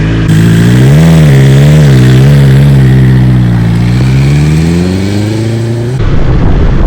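A motorcycle engine pulls away from a stop into a U-turn on full left lock, its loud close drone wavering as the throttle is eased on, then fading out near the end.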